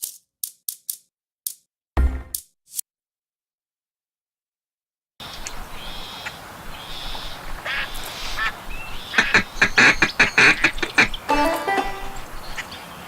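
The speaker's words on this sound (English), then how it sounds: "call ducks in for him to shoot" Duck calls and quacking in the Duck Dynasty video game, a burst of sharp clicks and call blasts first, then after a silent gap a steady run of layered quacks and calls that grows busier and louder toward the end.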